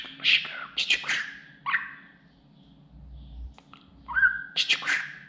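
A pet budgerigar chirping at close range in a series of bright, warbling chirps and short whistles, separated by brief quiet gaps.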